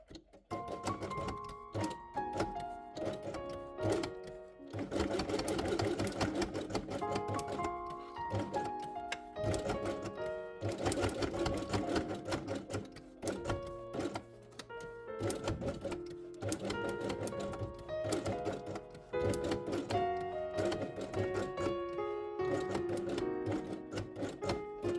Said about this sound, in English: sew both elements along the edge of the hole with white thread